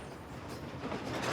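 Train rolling along railway tracks in Africa, a faint, steady rumble with soft rhythmic clatter of wheels, heard alone without voices.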